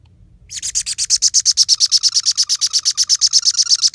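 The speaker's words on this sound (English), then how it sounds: "See, he's chirping away." A sun conure parrot chirps in a fast, steady run of bright, piercing calls, loud and close, continuing without pause after a brief quiet start.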